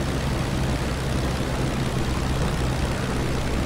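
An Albatros D.III biplane taking off with a tailwind in the Rise of Flight video game: a steady, loud propeller engine drone with a constant low throb throughout, no talk.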